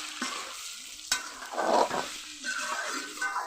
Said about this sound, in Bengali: কাঁচামরিচ লবণ হলুদের গুঁড়া কিছুক্ষণ ভালো করে কষিয়ে নিয়েছি